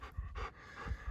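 Dogs pant in quick, rhythmic breaths close by at an off-grid campsite, a run of short huffs with no talking.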